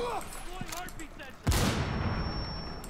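A single sharp pistol shot in the video game Rainbow Six Siege cracks out loudly midway and its reverb rings on afterward, preceded by chatter and game sounds.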